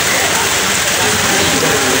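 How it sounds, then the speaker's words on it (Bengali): Heavy monsoon rain pours down in a dense, steady hiss that stays loud and unbroken throughout, close by. "কালো হয়ে কেমন পড়ছে, মুসুল ধারায় পড়ছে"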